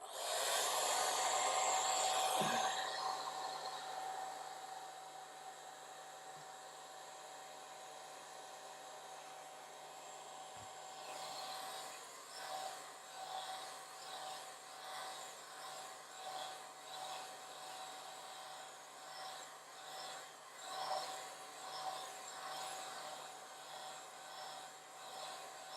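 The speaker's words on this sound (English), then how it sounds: "I'm going to dry it a little bit using the old trusty hair dryer" A hair dryer blows across a freshly painted watercolor forest scene, a steady whooshing hiss with a faint motor whine, loudest at first and then running on more softly with slight fluctuations as it moves over the paper.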